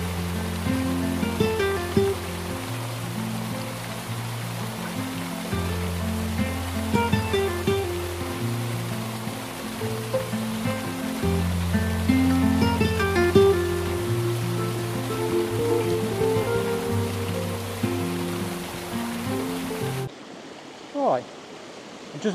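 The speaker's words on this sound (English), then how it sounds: "If I take you over, there's a little waterfall there." A small waterfall and stream spill under a bridge near Cwmorthin slate quarry in Wales, giving a steady, loud rush of running water for about twenty seconds before a brief quieter stretch at the end.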